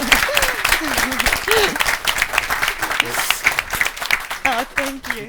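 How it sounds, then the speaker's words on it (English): A conference audience at a tech talk gives a round of applause, the dense clapping running under a speaker's voice as she talks over it. "Can I get one more round of applause?"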